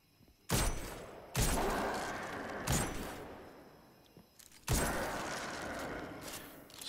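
Explosive payload weapon fire in the Destiny 2 video game: three loud, sharp blasts with decaying tails, spaced a couple of seconds apart, with no talking.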